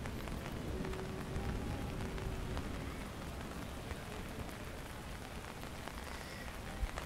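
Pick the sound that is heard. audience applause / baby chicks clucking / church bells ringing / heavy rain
heavy rain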